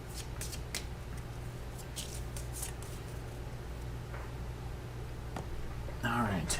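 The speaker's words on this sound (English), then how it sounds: "and then we will shuffle this" A deck of cards for the Astro Knights board game is shuffled, giving a soft riffling patter that runs steadily at low volume, ending in a brief brighter flutter.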